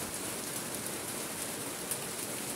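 Steady rain falls on an empty road beside a river, a dense, even hiss of drops on the surface with no voices.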